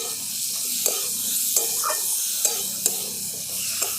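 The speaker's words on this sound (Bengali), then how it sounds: "মশলাটা খুব ভালো করে ঝিঙ্গে আর আলুর সঙ্গে মিশিয়ে নিয়েছি" Spice paste is stirred through ridge gourd and potatoes in an oily pan, giving a continuous hissing sizzle punctuated by evenly spaced spatula clicks against the pan, close and fairly loud.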